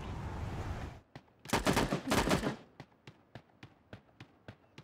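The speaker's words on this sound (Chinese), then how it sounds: "我老是自己开枪怎么办？" Gunfire in the mobile battle-royale game Sausage Man, starting with a short rumble, then two dense bursts of rapid shots and a string of evenly spaced single shots.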